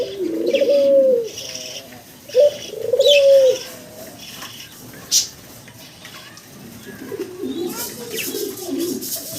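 Pigeons coo in repeated soft, throaty phrases nearby, with a brief sharper chirp between and light background noise.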